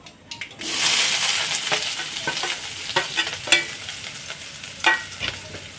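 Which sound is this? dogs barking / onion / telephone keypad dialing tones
onion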